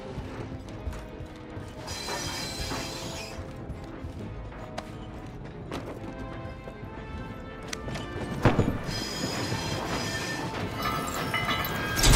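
A train rolls along steadily in the Medal of Honor: Above and Beyond video game, a continuous rumbling clatter with rhythmic clip-clop-like knocks and metallic mechanism noise, growing louder with a sharp clank near the end.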